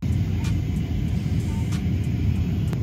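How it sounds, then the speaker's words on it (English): Steady, loud airplane cabin roar as a jet descends toward landing in Miami, a constant low rumble with no pauses, joined by a few faint clicks. "one of the bumpiest plane rides I've ever experienced in my life"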